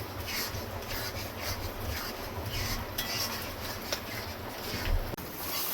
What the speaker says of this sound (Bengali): এবার সুন্দর করে সবগুলো মশলা একসঙ্গে কষিয়ে নেব